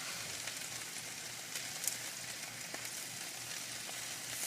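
Potatoes frying in a pan for a breakfast burrito, a steady close sizzle with faint crackles and pops and no voices.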